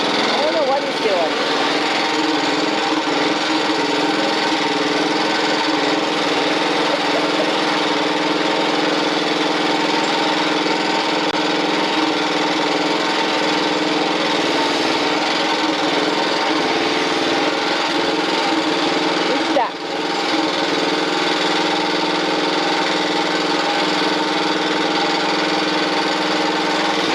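A small tractor engine runs steadily and loudly throughout, a continuous droning mechanical hum with a slight dip near the end.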